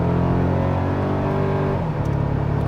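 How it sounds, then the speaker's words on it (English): A 2024 Toyota Tacoma TRD Sport's turbocharged four-cylinder accelerates hard, a loud, close engine roar climbing in pitch before a brief dip as it shifts, then pulling again. "For a 4-cylinder engine, it sounds surprisingly beefy."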